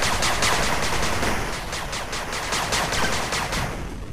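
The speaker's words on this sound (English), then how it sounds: "Machine gun turret complete." A machine gun turret fires in the strategy video game 8-Bit Armies, a loud, dense, continuous crackle of rapid gunfire lasting several seconds with no talk.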